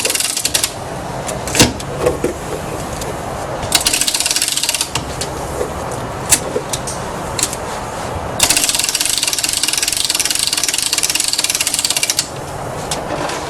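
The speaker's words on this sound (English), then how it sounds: "Now we're going to wind her up again." Loud ratcheting clicks and whirring gear noise come in bursts as an antique clock's mainspring is wound, with brief pauses between stretches of winding.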